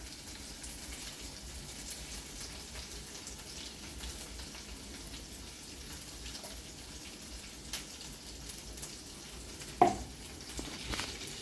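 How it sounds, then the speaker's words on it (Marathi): Ground corn stir-fried in a little oil over a low gas flame for a Saraswat corn bhaji gives a faint, steady sizzle, with a few soft stirring knocks near the end. "आता हे मी थोडस तेलामध्ये परतून घेते"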